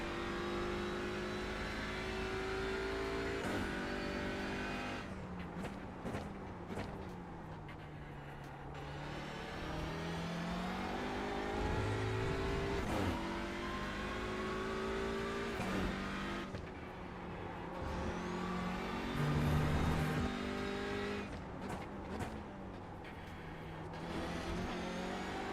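Touring car engine in iRacing at Snetterton 300, revving hard through the gears with rising and falling pitch as it accelerates out of corners, loud and continuous with brief shifts, no talk.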